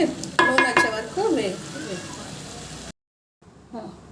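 A spoon stirs and mixes an egg masala curry in a pan, with soft scraping and light sizzling under a talking voice before a brief silence.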